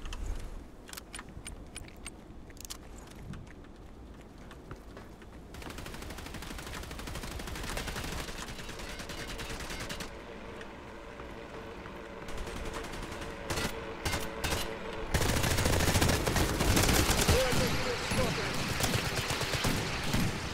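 Bursts of automatic gunfire and scattered shots from the video game Hired Ops, played with a UMP45, rattle over a continuous game soundscape, getting louder and denser toward the end.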